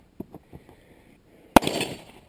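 Gunfire during a timed shooting workout drill at a shooting academy: a few faint distant pops, then one sharp, loud nearby shot with a short ringing tail, no talk.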